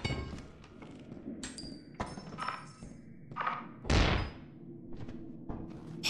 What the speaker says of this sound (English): throw my flashbang.